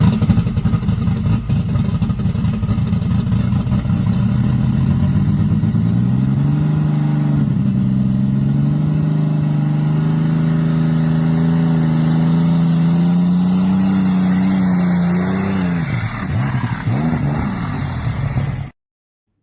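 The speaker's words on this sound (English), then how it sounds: "the sound of you know, that alcohol popping, it sounds like it's banging on tin" A loud alcohol-fueled pulling engine revs hard and steady with sharp popping and banging crackles like banging on tin, rising and falling in pitch, close and alone with no talk.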